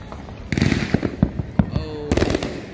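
Fourth of July fireworks burst in a rapid series of sharp cracks and booms, some crackling and a rising whistle among them, loud and fairly close.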